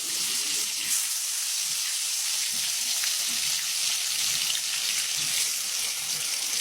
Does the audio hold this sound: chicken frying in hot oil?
yes